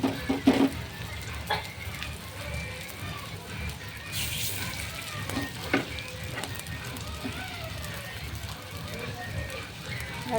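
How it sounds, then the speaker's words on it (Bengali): Chops frying in hot oil give a steady, dense sizzle with crackling pops. A voice talks briefly over the frying. "এবার আমি ঘুরে ঘুরে এভাবে এভাবে করে ভেজে নেব"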